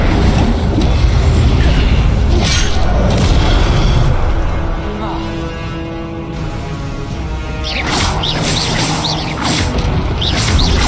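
Incendio fire spell cast in the Hogwarts Legacy video game, heard as loud booming, rushing blasts of fire over continuous dense game ambience, with a brief lull midway before another surge.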